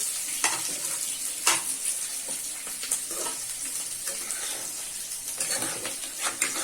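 Onion, ginger, garlic and capsicum fry in a kadai for gobi Manchurian, giving a steady close sizzle broken by scraping stirs and light clinks of the spoon, with no voices.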